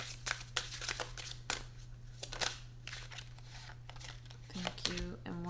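Tarot cards being shuffled by hand in repeated crisp riffling and sliding bursts, close and quiet, under a constant low electrical hum, with a brief spoken moment near the end.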